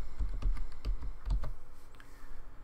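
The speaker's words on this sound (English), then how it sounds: "click on Search, then type in the word Invite" Keystrokes on a computer keyboard while searching within Windows 8, a quick run of close, crisp clicks in short clusters with no voices.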